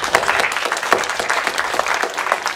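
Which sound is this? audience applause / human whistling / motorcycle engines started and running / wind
audience applause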